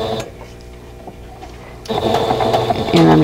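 A sewing machine stitches a seam on a vintage quilt block, its rapid mechanical chatter rising partway through and continuing close by, while someone talks over the sound.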